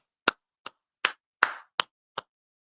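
A signature clap on a Philadelphia Eagles fan show: six sharp, separate hand claps spaced about a third of a second apart, close and crisp, with no talking.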